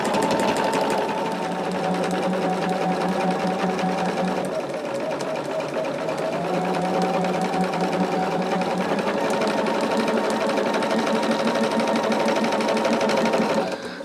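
A sewing machine stitches pieced quilt blocks together, running loud and steady with a fast mechanical whir, easing briefly in the middle and stopping at the end.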